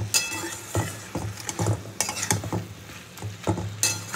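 Malabar spinach sautés in a pan while a spatula stirs it in short repeated scrapes and clinks over a soft sizzle, heard up close with no one talking.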